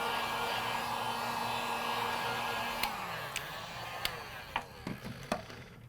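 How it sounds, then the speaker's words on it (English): A hot air gun or hair dryer blows a steady, close whoosh while warming the screen of an iPhone 6s Plus during a display repair, with a few sharp clicks and taps near the end. "I'm going to take my hot air gun or hair dryer, whichever it is you have, and I'm going to gently warm up the screen"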